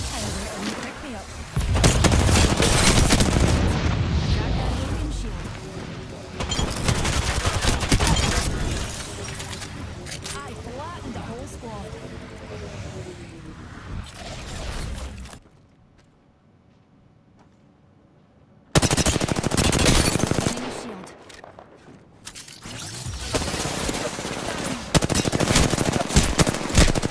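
Video game gunfire, dense sustained bursts of automatic shots and impacts, loud and near, with a brief quiet gap midway and a voice talking over parts of it.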